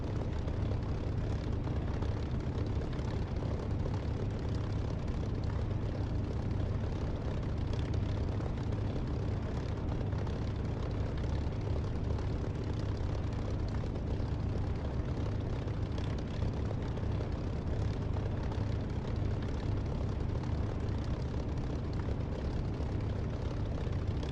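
Aircraft engines roar steadily at takeoff in the DCS flight simulator, a loud, continuous broadband drone with no break or voice over it.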